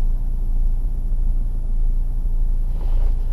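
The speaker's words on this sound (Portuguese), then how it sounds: "E o ronco de diesel é diferente, né? Fica essa marcha lenta, né?" A 2016 Toyota Hilux diesel engine idles with a steady low rumble, heard from inside the cab, loud and continuous with no talk over it.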